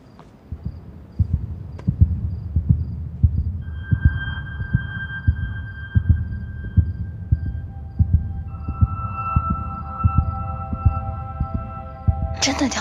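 A fast heartbeat sound effect thumps in a quick, even rhythm throughout, with soft sustained musical tones layered over it and a short bright burst at the very end.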